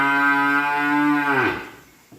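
A one-year-old economy-grade cow, about 115–120 cm tall, gives a single long, loud, close moo that holds steady before falling away into quiet.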